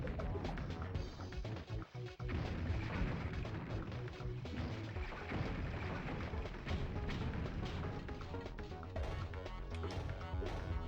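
Tanks fire in the Rampage 2: Universal Tour video game, a dense, continuous barrage of booms and bursts, loud and constant throughout with a brief dip near the start.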